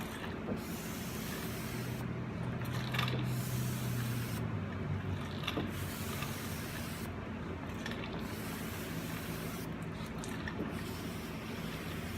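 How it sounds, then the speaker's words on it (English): Water is sprayed over car bodywork and a squeegee wipes it off in repeated hissing, rubbing passes, fairly quiet and steady with brief pauses between strokes. "Now I'm gonna wet the surface, squeegee it off, and see where I'm at."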